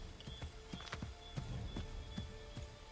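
Hooves of a horse in Assassin's Creed III clop in a quick, regular rhythm, moderately close and fairly quiet, with no talk over them.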